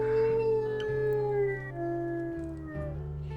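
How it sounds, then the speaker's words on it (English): Wolves in the WolfQuest video game give a double howl, several long, sliding tonal howls layered over one another, loud and steady throughout with no talk. "We're going to do another double howl and see if we can get more of our pack members over here."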